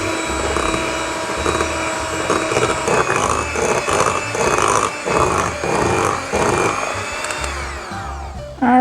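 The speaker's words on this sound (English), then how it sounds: "I think this is why I like my KitchenAid mixer just a little bit better, because I feel like it mixes things a little more smoothly" A KitchenAid stand mixer beats gooey butter cake filling with a loud, steady motor whine and a rhythmic slapping churn, then winds down at the end.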